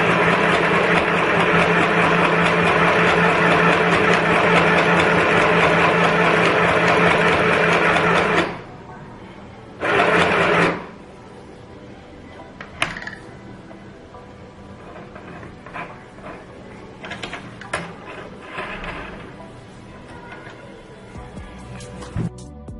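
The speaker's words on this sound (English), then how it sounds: "I'm using the foot pedal to sew" A mini multifunctional sewing machine run by foot pedal stitches steadily and loudly for about eight seconds, then stops; a brief second burst follows, and faint handling clicks and rustles trail off afterward.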